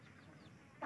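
Chickens cluck softly in a farm coop, faint and somewhat distant, with one brief louder cluck right at the end.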